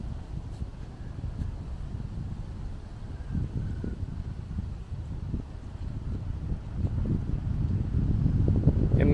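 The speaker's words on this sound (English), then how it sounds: "wind's really whipping out here today" Strong wind buffets the microphone outdoors at a cemetery, a steady low roar that swells louder toward the end, with no one talking.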